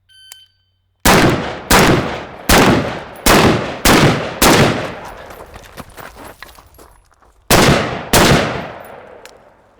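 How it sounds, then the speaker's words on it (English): Seven sharp rifle shots ring out in quick pairs and singles at targets on a close quarters range, each crack loud and close with a short echoing decay and no talking. "I'm going to fire 2 rounds into the head box that's directly in front of me"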